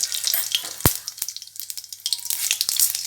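Oil sizzles and crackles steadily as a spoonful of mustard seeds fries, with a few sharp pops breaking through the close, continuous hiss.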